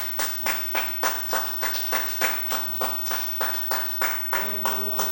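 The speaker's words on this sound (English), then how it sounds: "Now let's get a hand clap for that thing." A small group claps hands in a steady, evenly spaced rhythm of about three claps per second, fairly soft and close, with a faint voice near the end.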